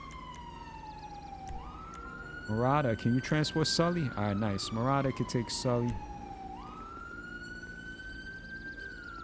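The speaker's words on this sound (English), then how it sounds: "He's probably the one running the siren." Police siren in the video game GTA 5, a steady wail rising and falling at moderate distance, broken midway by a voice talking over it, then wailing again alone.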